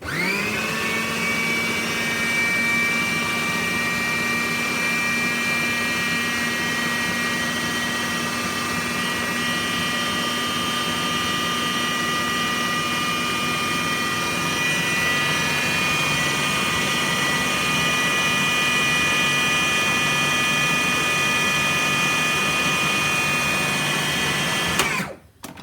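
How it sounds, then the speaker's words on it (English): Food processor whizzing chopped ingredients for a Thai chicken sauce, a loud steady motor whine with churning grind that runs unbroken for about 25 seconds before cutting off abruptly. "if you've chopped your ingredients well, it really doesn't need very long in the food processor"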